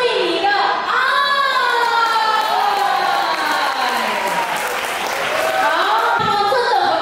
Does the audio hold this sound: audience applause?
yes